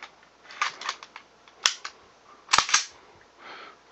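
A Steyr pistol from the M/S/C A1 series dry-fired with no ammunition, its striker releasing in a couple of crisp, close metallic clicks over faint handling noise.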